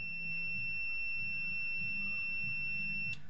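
A water heater's buzzer sounds during a thermostat test, a steady high electronic tone holding throughout with a low hum beneath and a short click near the end.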